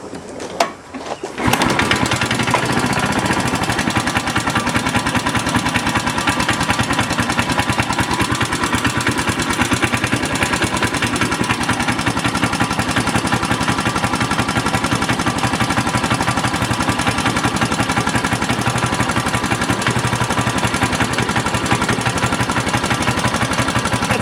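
A carbureted Trisport engine fires up on choke after fuel is poured down the carb, then settles into a loud, steady, rapid running chatter that continues unbroken close by.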